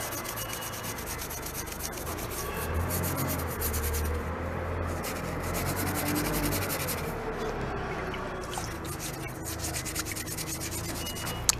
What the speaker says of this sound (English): I can choose to work with the Scotch-Brite to speed up the process.